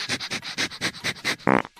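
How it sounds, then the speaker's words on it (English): A dog sniffs in a quick series of short, close breathy inhales, about ten rapid snuffles, ending in a louder snort-like huff. "Yep, they sniff each other's butts"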